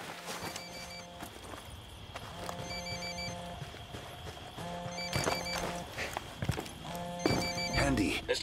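A mobile phone rings repeatedly in the video game Ghost Recon Wildlands at a cartel base, a steady pattern of electronic ring bursts under almost continuous talk, with footsteps and game ambience behind.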